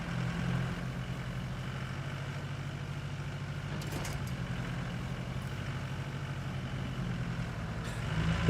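A truck engine idles in the video game RoadCraft, a steady loud low rumble that continues throughout with a brief hiss midway.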